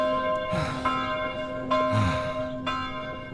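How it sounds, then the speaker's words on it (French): Church bells ring in a film scene, with sustained tolling tones and three distinct strikes spaced about a second apart, each ringing out over the lingering hum. "Les cloches sonnent pour lui."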